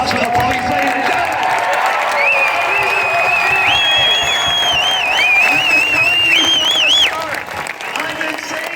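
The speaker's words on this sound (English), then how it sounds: "Let's hear a round of applause for the police, ladies and gentlemen" A rally crowd in London, Ontario applauds for the police: dense, sustained clapping and cheering that holds steady for about seven seconds, then thins out, with voices shouting over it throughout.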